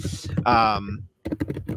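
Clicky computer keyboard keys clatter in quick, uneven bursts close to the microphone, with a brief pause partway through and a voice talking over the start.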